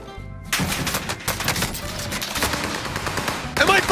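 Dense automatic gunfire from a Call of Duty Warzone firefight, rapid overlapping bursts and single cracks rattling close and loud almost continuously, with a voice faintly under the shooting.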